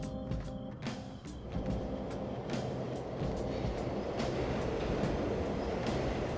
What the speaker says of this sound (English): But they are catching a train.